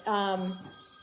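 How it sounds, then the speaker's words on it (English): A phone rings once indoors in a home under demolition for renovation, a brief faint tonal chime that quickly fades into the room background. "I think that's Bob's phone that's ringing."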